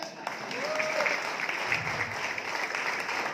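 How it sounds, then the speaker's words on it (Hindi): Moderate audience applause at a celebration gathering, a steady wash of clapping with a brief voice rising above it early on. "वाह, ताली बजाओ उसके लिए।"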